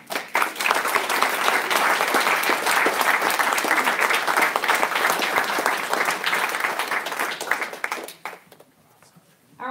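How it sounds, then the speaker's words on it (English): A roomful of people at a school district board meeting gives a loud, sustained round of applause for a National Merit student, dense clapping that holds steady before tapering off sharply near the end. "please join me in recognizing and giving a huge round of applause to our National Merit"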